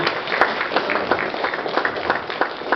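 A room full of people keeps up applause for Dr. Chaudhry after a goodwill message, a continuous mid-level clatter of many hands with slight swells.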